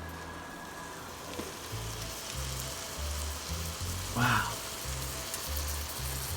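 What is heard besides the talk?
raw meat sizzling in frying pan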